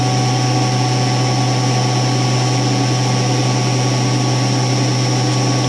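A CNC milling machine cutting metal with coolant gives a steady, loud mechanical drone with strong sustained tones and an even hum that never changes across the whole stretch.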